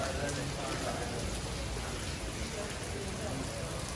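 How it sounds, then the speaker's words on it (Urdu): Steady monsoon rain falls in Lahore as heard from inside an office, a dense, even hiss of drops on surfaces that holds constant throughout with no breaks. "میں آفس میں کھڑا ہوں اور بارش ہوتی جا رہی ہے۔"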